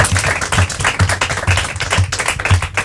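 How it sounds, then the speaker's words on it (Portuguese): A quiz-show audience claps for a team, with brisk, steady clapping at a loud, even level and a regular rhythmic pulse, as if the crowd were clapping in time, carrying on for nearly three seconds. "Palmas!"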